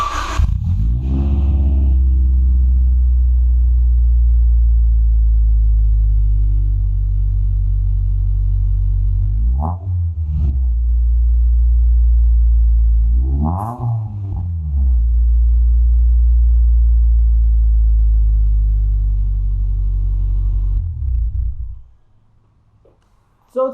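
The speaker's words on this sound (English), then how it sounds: "I'm going to turn the car on and give it a rev so you guys can hear what that sounds like." A Honda Del Sol fitted with a PLM exhaust muffler idles with a deep, steady rumble, blips its revs twice in sharp rising surges, then shuts off into near silence.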